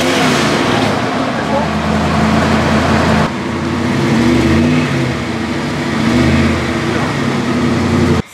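The engine of a 1997 Dodge Dakota pickup with a camper revs loudly and close, its deep throaty roar rising and falling in long pulls before cutting off abruptly at the end.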